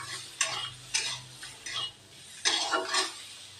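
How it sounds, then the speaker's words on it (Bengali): Cumin powder and turmeric being stirred into frying ingredients in a pan: about six rhythmic scraping strokes of a spoon against metal, close and clear with a light sizzle between them. "সব উপকরণ দিয়ে ভালো করে এগুলো মিশিয়ে নিব।"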